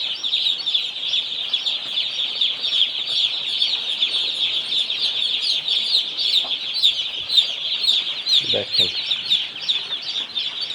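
Chickens on a poultry farm, continuous chirping and clucking from many birds close by, with a brief spoken word partway through.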